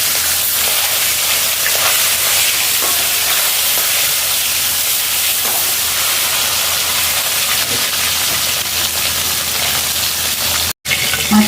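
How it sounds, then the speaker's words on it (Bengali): Fish head frying in hot oil for a Bengali fish curry, a steady loud sizzling hiss that runs on unbroken, with a brief sharp dropout near the end and no talk. "এবারে মাথাটা ভেজে নেব।"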